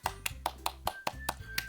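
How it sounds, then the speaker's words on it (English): One person clapping hands in a short round of applause, about nine sharp, evenly spaced claps close to the microphone over a low background hum. "but I did a round of applause"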